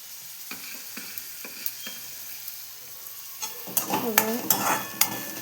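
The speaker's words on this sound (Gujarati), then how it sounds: "જેવી જેવી ડુંગળી સમારેલી છે હવે એને પહેલાં આપણે પાકવા દઈશું" Chopped onions sautéing in a pan: a steady, quiet sizzle with light ticks, then louder scraping and stirring strokes toward the end.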